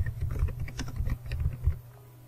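Quiet, close keystrokes from a computer keyboard while filling in an online sign-up form, a quick irregular run of clicks with no talking.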